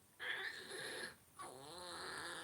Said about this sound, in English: It's just heavy breathing